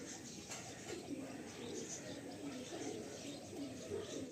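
Pigeons coo steadily in a loft, several birds overlapping in a soft continuous murmur with occasional chirps, close and unbroken throughout with no voices.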